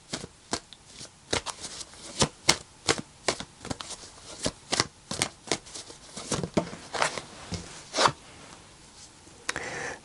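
Tarot cards are shuffled by hand, a quick series of crisp, close riffling snaps and soft slaps in an uneven rhythm, with no talking.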